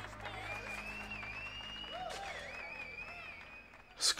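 A crowd applauds in the video game Manhunt 2, a burst of clapping under steady game music and ambient tones, moderate in level and rising into a sharper sound right at the end.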